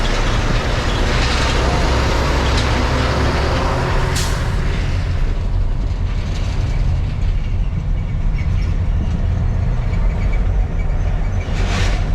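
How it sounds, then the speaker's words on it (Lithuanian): A heavy truck engine rumbles steadily and close, with a constant low drone and occasional hissing bursts, like air brakes releasing. "Neblogo fūro, kolego."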